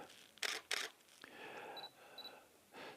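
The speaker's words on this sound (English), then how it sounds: "every time you hear the shutter, you can change your pose" A camera shutter clicks during a posed photo session: two sharp, close shutter snaps in quick succession, then a few softer mechanical clicks and faint handling noise in a quiet room.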